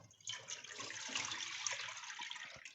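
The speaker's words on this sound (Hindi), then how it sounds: "और इसमें अब दूध डालूँगी" Milk poured into a pan over a lit flame while making Turkish sesame halwa, a steady liquid splashing and gurgling pour lasting a couple of seconds, close and clear with no talking.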